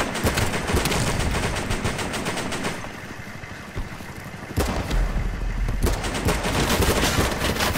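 Rapid automatic gunfire from the BattleBit Remastered online shooter hammers at a building in loud, close, sustained bursts, with a short lull in the middle before the shooting resumes.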